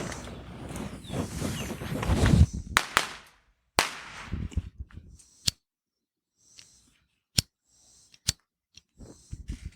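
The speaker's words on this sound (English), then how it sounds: "The fireworks are louder than me?" Sharp fireworks cracks go off outside around the Fourth of July, several single bangs spaced irregularly after a stretch of nearby rustling and handling noise.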